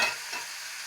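Spring onions being stirred in a hot pan, a short hissing sizzle with a soft scrape, heard alone.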